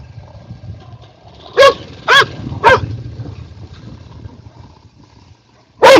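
Australian dog barks at a quad bike: three sharp barks in quick succession, then a pause with a low engine hum and faint rustle beneath, followed by one more loud bark near the microphone.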